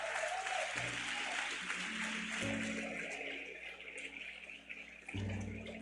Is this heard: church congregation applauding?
yes